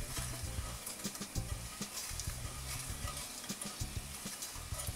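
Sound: spices frying in sunflower oil

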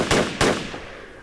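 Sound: machine gun fire in video game Project Reality

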